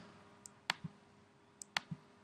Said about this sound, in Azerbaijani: Comment hissəsinin üzərinə klikləyəndə